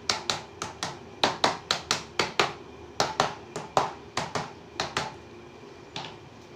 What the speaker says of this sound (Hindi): इसको मैलेट कहते हैं, ये हैमर की तरह है लेकिन ये स्टील का नहीं होती है।